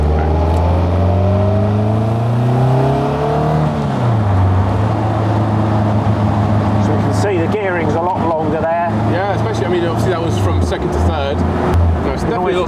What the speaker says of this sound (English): You still get that lovely Duratec sound as well.